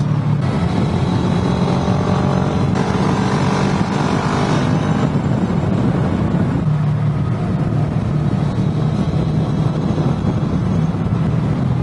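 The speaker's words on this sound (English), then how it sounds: "Engine braking is your friend." A car engine drones steadily under engine braking on a steep grassy descent, loud and continuous with rumbling, wind-buffeted noise throughout.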